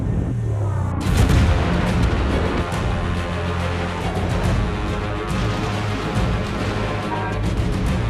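Battleship guns fire salvos in a naval video game recreating a German-versus-English engagement at Dogger Bank: a heavy boom opens a dense, continuous barrage of overlapping blasts and rumbling.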